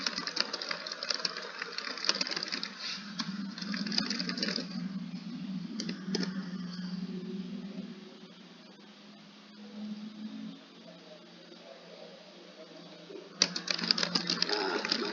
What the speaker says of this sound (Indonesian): Sekarang kita ketik.